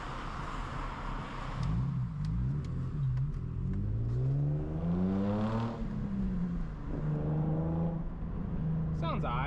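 Infiniti G35 fitted with ISR blast pipes exhaust driving off and revving hard, with a loud, rising engine note climbing through several gears and brief drops between shifts, close and continuous.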